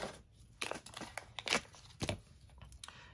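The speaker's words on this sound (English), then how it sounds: "I'm gonna grab my ribbon cutting scissors." Ribbon-cutting scissors trim the ends of a ribbon on a stamped birdhouse paper craft, giving several short, close snips and crisp paper-like rustles spread across a few seconds.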